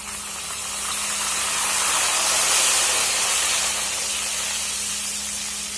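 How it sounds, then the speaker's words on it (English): A steady, broad hiss of jackfruit chips frying in hot oil over a high flame swells and then eases slightly over several seconds, continuous and close, with no talking. "This sizzling sound should be heard."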